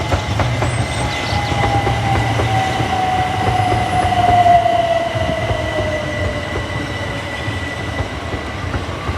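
Southeastern Class 375 electric train pulling out of Tonbridge station toward London Charing Cross: a steady loud rumble of wheels on track with a rising motor whine and a faint squeal, close by and continuous, no voices.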